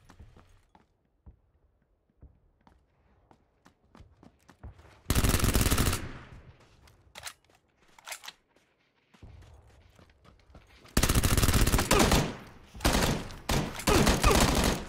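A silenced Vector firing in PUBG, two loud sustained full-auto bursts with a few shorter bursts between them, over quieter footsteps and movement noise.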